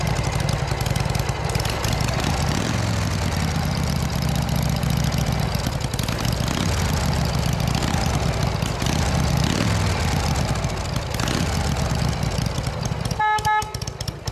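A 1981 Harley-Davidson FXS Lowrider with original carburetors, choked, idles loud and near with a steady low rumble for most of the clip, and a brief horn-like tone sounds near the end.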